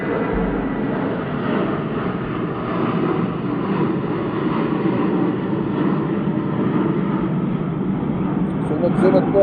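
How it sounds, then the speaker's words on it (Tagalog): Airplanes flying near LaGuardia Airport pass one after another, a steady broad engine roar that rises slightly toward the end. It sounds continuous and fairly close, with a voice speaking over it. "Sunod-sunod po ang aeroplano, no? Sabi ko sa inyo, malapit tayo sa LaGuardia Airport, eh."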